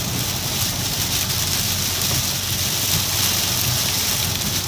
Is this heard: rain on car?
yes